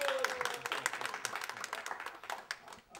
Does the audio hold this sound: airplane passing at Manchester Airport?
no